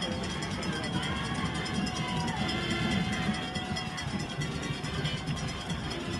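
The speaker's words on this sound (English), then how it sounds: "You can hear the crowd roaring again" Crowd noise roars at a high school football game between Parkview and West Forsyth, a broad steady wash of many voices under light commentary, sustained without letup.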